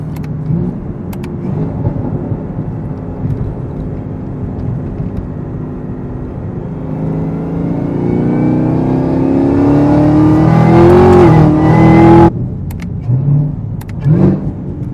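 A car fitted with a Corsa Performance cold air intake, tune and exhaust revs hard, the engine note climbing steadily into a loud scream before cutting off abruptly, followed by a few short blips.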